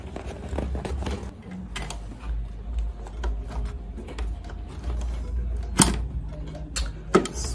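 A sewing machine stitching Ankara fabric panels of a baseball face cap, uneven mechanical whirring and ticking in short runs, with a few sharp clicks and thumps, no voices.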